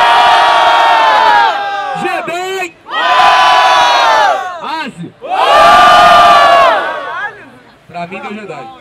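A crowd at a rap battle in São Gonçalo erupts in three loud waves of cheering, whooping and shouting, separated by brief lulls.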